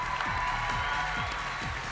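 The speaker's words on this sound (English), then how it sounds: "Let's give them another round of applause." Faint, steady applause from an audience at the Miss Teen USA 2009 pageant, heard at a distance.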